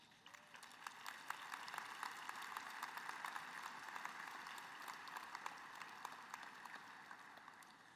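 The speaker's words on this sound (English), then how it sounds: "Graduates, please express your love and gratitude to all of these people with a round of applause." Graduates at a university engineering commencement give a sustained round of applause, a dense, even patter of many hands clapping that fills the hall steadily throughout, heard at a moderate distance.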